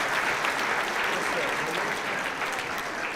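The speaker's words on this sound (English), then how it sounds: "So let's have a round of applause for her," An audience at a school winter concert applauds, giving dense, sustained clapping that fills the space evenly for a few seconds.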